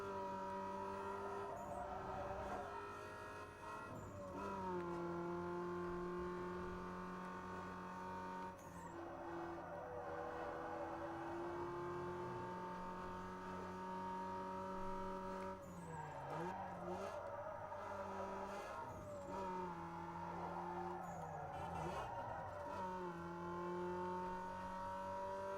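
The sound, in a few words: Toyota Supra racing in Need for Speed Underground 2 video game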